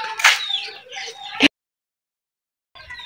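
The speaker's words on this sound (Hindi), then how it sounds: "ये हमारी जो है मुर्गियाँ हैं, इसने बच्चे दी हुई है।" Hens clucking beside their chicks in a village home, a few short, close clucks and calls in quick succession, then a brief silence before another burst.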